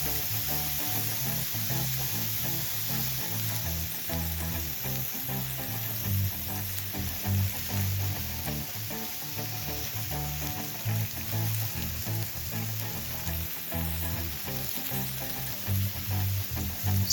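Pearl oyster mushrooms fry until crispy in a pan, giving a steady, dense sizzle with crackling pops throughout and faint stirring; close and continuous, no talking.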